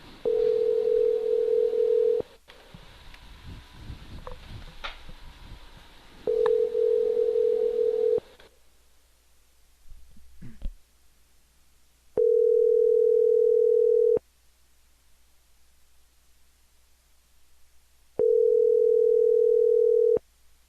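Telephone ringback tone sounds four times in long even bursts separated by pauses, loud and clean, with a brief rustle and muffled handling noise between the first rings.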